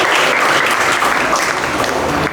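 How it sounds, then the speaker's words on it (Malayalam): An audience at a talk applauds, a dense, loud, continuous wash of many hands clapping together that holds steady for a couple of seconds. "ഒരു ക്ലാപ്പ് കൊടുക്കുക"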